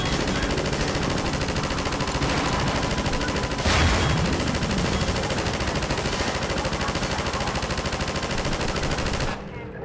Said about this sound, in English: these machine guns are incredibly accurate